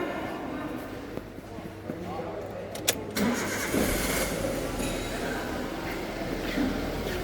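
A car engine cranks and catches at the start of a PCV system check during routine vehicle maintenance, then settles into a steady, close running rumble, with a voice speaking faintly in the background.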